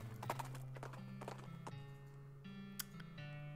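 In the West of Loathing video game, a ridden horse's hooves clip-clop in a steady, even rhythm, with sustained tonal game music underneath and no talking.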